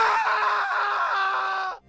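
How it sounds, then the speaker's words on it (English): A Sound Ideas stock horror effect of a man screaming in terror, one long, loud, sustained raw shriek lasting nearly two seconds before cutting off abruptly. "This particular one is called Scream, Male, Terror, Human, Horror."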